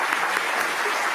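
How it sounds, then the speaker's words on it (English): An audience applauds at an awards ceremony for writers and illustrators: a dense, steady wash of clapping from many hands in a large hall, moderately loud and without individual claps standing out. "So, yes, applause."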